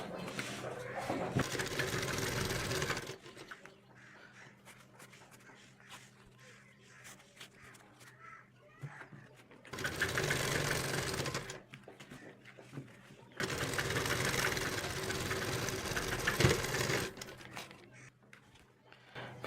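A domestic sewing machine stitches an Afghani salwar with elastic being pulled, its motor whirring in several sustained bursts with quieter handling and shuffling in between.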